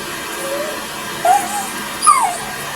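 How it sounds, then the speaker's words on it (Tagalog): A dog lets out a couple of short, high whimpering yips over a steady low hum. "ito yung ating alagang aso dito"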